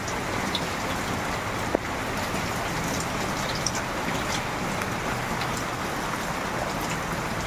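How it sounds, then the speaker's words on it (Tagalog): Heavy rain pours steadily during a typhoon in the Philippines, a dense continuous hiss of drops on surfaces with a couple of faint knocks, no voices present. "ngayon ay wala nang tigil ang ulan kasi nga ay may bagyo na pararatingin"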